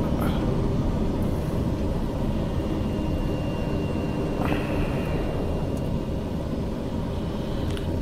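A TBM 850 turboprop taxies in Microsoft Flight Simulator, its engine a steady, loud broadband drone that holds constant throughout with no breaks.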